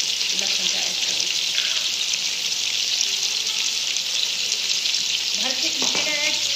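Mutton frying with garlic and ginger in a pan gives a loud, continuous hiss and sizzle, with a few stirring scrapes and faint voice sounds underneath.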